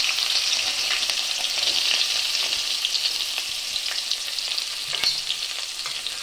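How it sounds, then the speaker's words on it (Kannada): Chopped onions fry in a pan for egg rice, giving a steady close sizzle with scattered pops and the scrape of stirring throughout. "ಬ್ರೌನ್ ಕಲರ್ ಆಗೋವರೆಗೂ ಫ್ರೈ ಮಾಡ್ಕೊಳ್ಬೇಕು"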